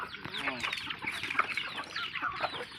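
A flock of chickens clucks continuously nearby, short overlapping calls in a busy rhythm, with a faint voice briefly underneath.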